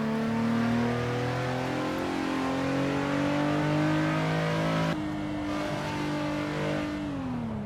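A racing-game car engine in Assetto Corsa on a mountain touge road drones and climbs in pitch under steady throttle, drops briefly at a gear change, then pulls up again, loud and alone without talk.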